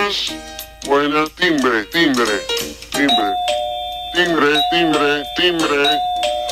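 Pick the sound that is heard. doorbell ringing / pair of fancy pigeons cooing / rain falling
doorbell ringing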